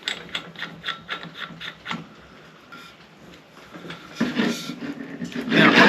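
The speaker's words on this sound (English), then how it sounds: "you're going to take your crescent wrench, you're going to kind of crank down on it a little bit, make it pretty snug." Crescent wrench tightening a fitting on a paintball fill station mounted on an MSA air tank, giving a quick run of close, sharp metallic clicks, then shuffling and handling noise.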